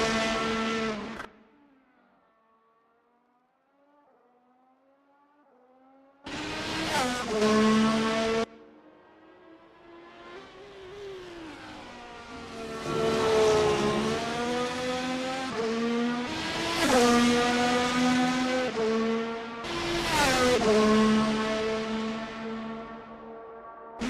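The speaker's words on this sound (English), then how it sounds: "you're going to be going in a straight line down the Casino Straight towards 13 and 14, and Cody Lawrence has to take avoided actio" Race cars on a video game track approaching the Casino Straight at a Canada round, with engines revving and shifting through rising and falling pitches, several cars passing in bursts, loud and close with no talk.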